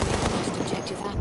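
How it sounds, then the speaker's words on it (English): Video game gunfire with a jamming gun: a quick burst of dense, loud shots packed into a second or so, with a voice talking over part of it. "I just fired a bullet and it jams."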